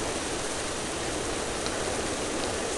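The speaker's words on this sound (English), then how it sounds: "Oh, thunder and rain and stuff." Steady, dense rain hisses without pause in the Treasure Adventure Game video game, a loud, even wash of noise with no distinct thunderclap standing out.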